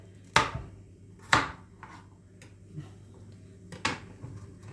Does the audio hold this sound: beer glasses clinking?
no